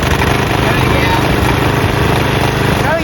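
A Briggs & Stratton flathead engine on a Craftsman push mower runs at a steady loud drone, close up and continuous, with a voice briefly heard over it.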